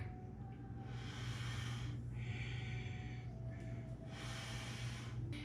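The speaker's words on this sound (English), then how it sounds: "we're taking an inhale when we lean forwards because the belly can relax, and we're exhaling around the back." Forceful rhythmic breathing during a kundalini yoga throat chakra exercise, inhaling leaning forward and exhaling rounding the back, strong nasal breaths in repeated cycles close up over a steady low hum.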